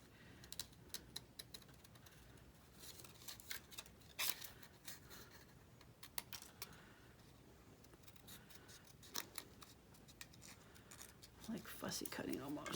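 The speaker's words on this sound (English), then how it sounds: "need to switch to little scissors here" Soft, crisp snips of small scissors fussy-cutting a junk mail postcard, scattered irregularly at close range over a quiet background.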